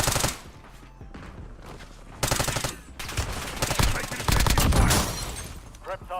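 C9 submachine gun fire in Call of Duty Warzone, with loud, rapid bursts repeating across the clip amid other in-game noise.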